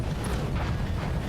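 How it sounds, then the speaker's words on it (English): An ammo explosion in the BattleTech RogueTech mech game gives a brief, deep, rumbling boom that fills the moment without any voices. "Ammo explosion."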